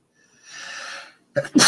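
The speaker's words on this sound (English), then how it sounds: "I love it when we have sneezing right in the middle of it" A single sharp human sneeze, close and loud, preceded by a soft breathy inhale and a short quiet pause, with no speech around it.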